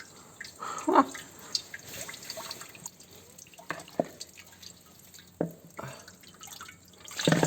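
Water drips and splashes in scattered, uneven drops during restoration work on a Belarus MTZ-52 tractor with a new engine head, the sharp plinks fairly close and the spaces between them quiet.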